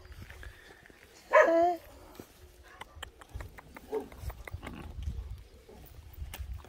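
A young black puppy beside a waterwheel gives a short, sharp yap, loud and near, followed by softer scattered sounds, with running water in the background.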